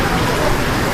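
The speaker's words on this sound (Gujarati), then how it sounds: "જો ફૂલ વરસાદ છે" Heavy monsoon rain pours down outdoors near a roadside tea stall, a dense steady hiss that stays loud and even through the whole brief moment.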